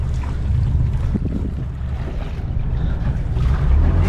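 Sea waves stirred up by fast passing boats wash and churn steadily up close, with a low rumble and gusts of wind noise across the microphone throughout.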